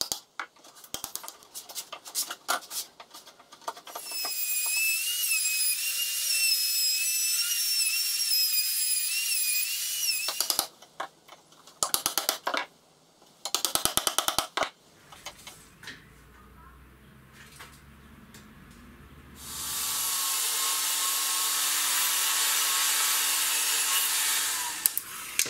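A router cuts a rebate into a wooden frame for a Pantorouter XL stand. Two long, high-pitched whining runs are separated by clattering handling noises, close and loud, with no talking.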